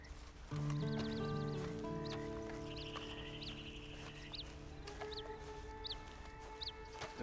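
Horse in the Red Dead Redemption 2 video game, hoof clops and light snorts amid game ambience with a held tone and repeated bird-like chirps, steady and moderately quiet.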